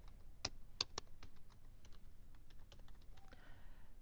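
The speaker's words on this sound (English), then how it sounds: "we are typing her last name first, comma, and then her first name" Keystrokes on a computer keyboard as employee names are entered into payroll software: quiet, close, irregular tapping with a few sharper clicks, then a brief soft hiss near the end.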